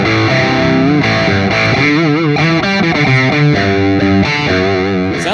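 Marshall Studio 900 20-watt amp on its dirty channel with reverb and lead gain near noon, playing a continuous distorted electric guitar riff of shifting chords and bends, loud and steady with no talking.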